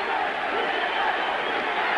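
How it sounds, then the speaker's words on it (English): A boxing crowd at a 1981 bout between Teófilo Stevenson and Jimmy Clark boos the referee, a steady, dense roar of many voices that holds without a break. "Crowd booing incessantly now, booing the referee."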